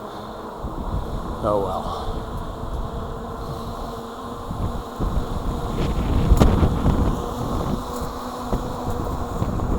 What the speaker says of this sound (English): Holy moly, wind shifting, I guess.